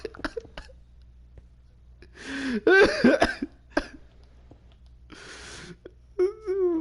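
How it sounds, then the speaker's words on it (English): A person coughs a few harsh bursts, close and fairly loud, with brief vocal noises and quiet room tone between them. "I can just start coughing and everything"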